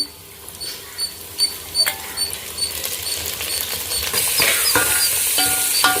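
Curry leaves and coriander frying in a pan, a series of close scraping stirs and light crackles that give way to a louder, steady sizzle.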